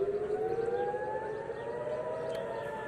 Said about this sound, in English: Israel has sounded air raid sirens.